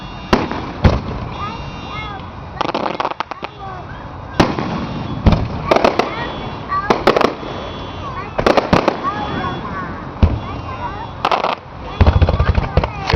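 Fireworks display grand finale: a rapid barrage of loud, close booming bursts and crackles, dense and overlapping throughout, with spectators talking and exclaiming underneath.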